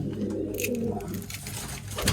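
A female pigeon coos softly nearby on a rooftop pigeon perch, low throaty calls over a background murmur, with a faint voice now and then.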